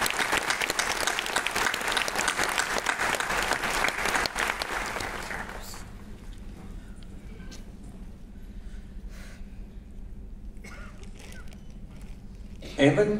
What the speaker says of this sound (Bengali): এটা আমার মনে হয় করতালি দিয়ে we should acknowledge this.